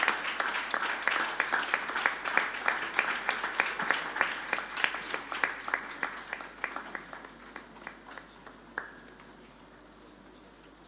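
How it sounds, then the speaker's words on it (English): An awards-ceremony audience gives a resounding round of applause welcoming Justice Victor Mawolom Duche, many hands clapping in quick rhythmic bursts that hold steady, then thin and fade toward the end, with no voices. "Ladies and gentlemen, let's give the honor with a resounding applause."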